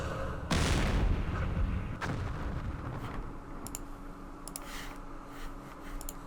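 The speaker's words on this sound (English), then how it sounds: "Let's fire back at the missile." Artillery and missile fire in Campaign Series Middle East opens with a heavy booming blast, a second thump, then sharp clicking and ticking interface sounds over a low rumble.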